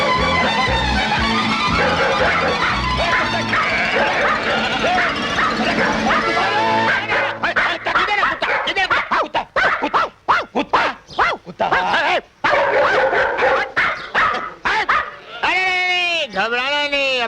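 Dogs bark repeatedly in a film scene, mixed with music and shouting voices, with sharp barks and yips scattered through the second half.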